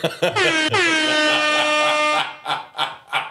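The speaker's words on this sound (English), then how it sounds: "I was trying to hit the air horn." A loud, blaring air horn blast holds for about two seconds, followed by a few shorter honking bursts.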